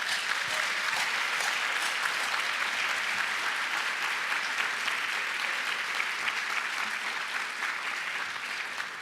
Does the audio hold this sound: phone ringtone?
no